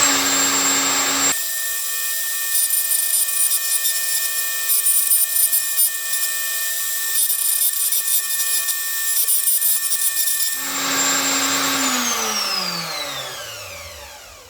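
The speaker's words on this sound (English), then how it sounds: "what I've got to cut now is down to the 17mm depth at the front of the pickup cavity" A power router cuts the pickup cavity in a wooden guitar body for a 1958-style Flying V build, a loud steady high whine with grinding as it plunges, then winding down to a stop.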